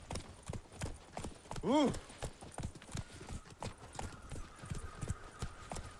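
Roach the horse trots through The Witcher 3 with quick, close clip-clopping hoofbeats, and a brief vocal exclamation breaks in partway through.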